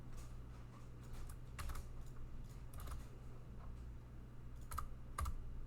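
Keystrokes tapping on a computer keyboard during a coding session, irregular bursts of clicks with a few louder isolated key presses, close to the microphone over a low steady hum, no talking.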